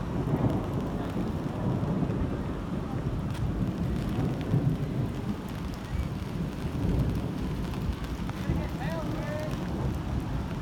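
An extreme thunderstorm over Bolivar, West Virginia: heavy, steady rain pours throughout while deep thunder rumbles continuously underneath, loud and close, with brief excited voices here and there.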